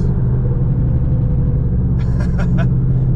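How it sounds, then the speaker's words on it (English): A Subaru STI cruising at about 90 km/h with bad brakes as they are lightly applied: a steady low road and engine rumble fills the cabin, with a brief series of higher squeaky brake sounds near the end. "I'm gonna lightly touch the brakes"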